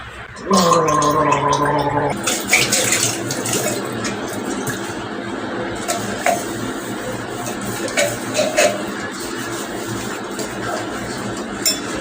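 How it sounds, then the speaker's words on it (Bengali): A person gargles close by, a short bubbling burst in the first two seconds, followed by running water, faint clinks of dishes and background household noise. "গার্গেলটা করে নিই"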